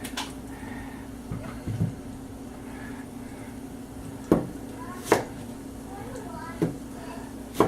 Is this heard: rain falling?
no